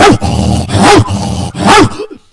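A man imitates a dog with three loud, close, gruff barks in quick succession, each a rough vocal burst, ending abruptly.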